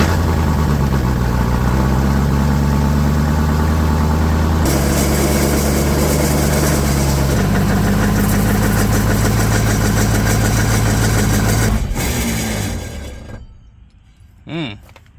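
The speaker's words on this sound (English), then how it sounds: "the noise that I was hearing that I was so concerned with, I'm almost certain is the flex plate" A Range Rover Classic engine idles loud and close with a steady low drone and a rattling flex plate noise, shifting in pitch partway through before cutting off near the end, followed by a faint brief sound.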